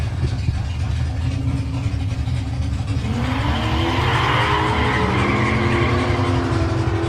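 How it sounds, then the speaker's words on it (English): Drag race launch between a 4-litre turbo Fairmont and an HQ coupe with a 383 cubic inch Chevy, loud engines roaring steadily then rising sharply in pitch as the cars pull away, a continuous wall of engine and exhaust noise. "Peter DeBalek's back in lane 2 in his 4 litre turbo Fairmont versus Jamie Brown in his gorgeous HQ coupe with a 383 cubic inch"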